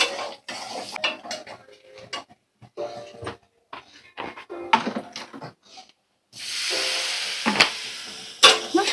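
An egg fries in a pan alongside onion and potato, first with scattered utensil clinks and stirring, then a loud, steady sizzle that takes over near the end, broken by a couple of sharp metal clanks.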